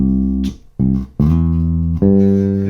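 A bass guitar plays a short bass line of sliding arpeggio notes, a few sustained low notes separated by brief gaps, played clearly and alone.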